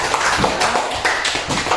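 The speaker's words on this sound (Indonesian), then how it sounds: "Tepuk tangan buat kalian semuanya" Group of students in a classroom giving a round of applause, loud, close, fairly rhythmic clapping that continues steadily throughout.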